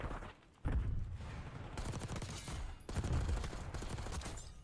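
Rapid gunfire from a Call of Duty match, dense bursts of shots and explosions that cut in and out at moderate volume.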